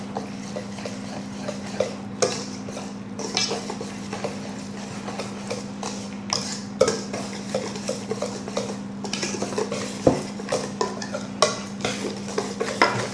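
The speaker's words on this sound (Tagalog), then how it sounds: "Mix lang natin ng mix ang ating wet and dry ingredients." A utensil stirs wet and dry banana cake batter ingredients in a bowl, giving steady scraping and irregular clinks against the sides throughout, with no talking.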